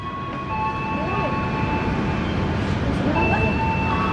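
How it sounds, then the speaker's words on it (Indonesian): A KRL commuter electric train arriving at Jatinegara station in Jakarta, a steady loud rolling rumble with a faint high whine and tonal hum, continuous over a few seconds. "Wah, ada KRL lagi dari belakang"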